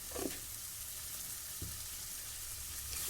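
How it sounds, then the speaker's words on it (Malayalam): Onions fry in hot oil with a little salt in a pan, giving a steady, quiet sizzle with a few soft stirring clacks near the start and the middle and no voices. "സവാള ഇതുപോലെ ഒന്ന് തിരിഞ്ഞ് മറിച്ചും ആ ഓയിൽ എല്ലാ ഭാഗത്തേക്കും ഒന്ന് ആയി വന്നാൽ മതി"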